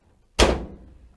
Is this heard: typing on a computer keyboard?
no